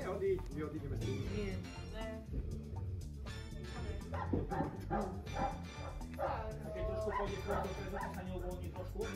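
A Moscow Watchdog barks and yelps repeatedly during protection training, loud close bursts mixed with whimpering, while people talk in the background throughout.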